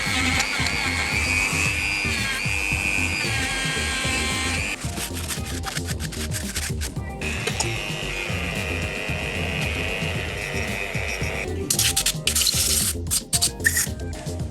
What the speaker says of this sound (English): Then I will polish this side of the piston, which has small